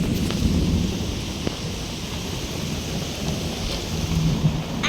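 Steady rain pours outdoors during a storm with the power out, a dense, even wash of rainfall close by, with a faint low rumble underneath and no voices.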